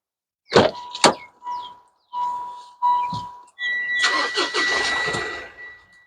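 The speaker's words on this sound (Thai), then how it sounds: "เดี๋ยวลองสตาร์ทคันนี้ให้ดูนะคะ" A 2021 Mitsubishi Triton GT Premium 2.4 four-wheel-drive pickup gives a couple of chimes and clicks, then cranks and starts. The engine settles into a loud, steady idle close by.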